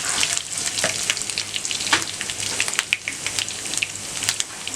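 Onions, now deep brown, and ginger frying and sizzling in oil in a pan for beef nehari, a steady close crackle with occasional sharper pops and stirring, no talking.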